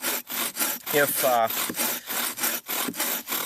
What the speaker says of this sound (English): you're going to have to work a lot harder to get the bow drill going and to overcome that friction